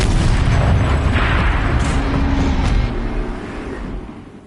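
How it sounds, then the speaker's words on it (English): A turret fires in the video game Horizon Zero Dawn, a loud booming blast whose heavy low rumble rolls on for several seconds and gradually fades, with no voices over it. "Rotate turret! And fire!"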